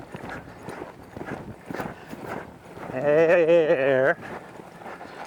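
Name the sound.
horse hooves cantering in an arena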